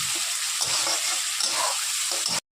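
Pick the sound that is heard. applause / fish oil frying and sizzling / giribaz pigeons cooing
fish oil frying and sizzling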